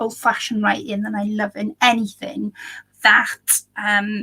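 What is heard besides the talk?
None of the usual background noises is heard.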